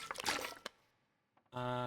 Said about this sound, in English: I can drink the water.